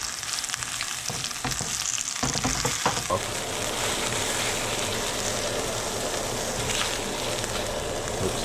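Doritos-crusted fish frying in oil in a pan, a loud steady sizzle and crackle filling the whole stretch, with a few clattering knocks near the start as the fillets are moved, and no talking.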